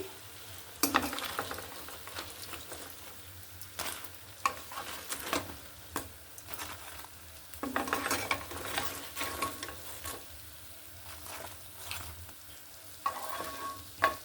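Beef-filled meat pitha fry in a pan, a low background sizzle broken by repeated scraping and stirring clatters of a utensil against the pan at irregular intervals.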